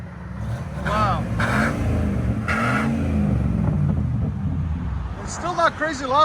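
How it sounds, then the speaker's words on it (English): A Ford 250 truck with a straight pipe exhaust rumbles and revs steadily nearby, its deep engine note running throughout beneath brief bursts of talk from people close by. "It's still not crazy loud for being a 250 straight pipe."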